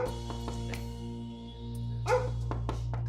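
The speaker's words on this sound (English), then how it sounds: "Cesar wants Leslie to learn how to prevent Buddy's aggressive barking when there is a knock at the door." A Labrador barks in short, sharp bursts indoors at a knock on the door, a few quick yelps standing out from a steady low hum.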